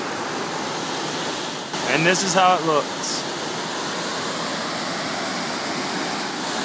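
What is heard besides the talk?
Salto Rey Pucura waterfall in Chile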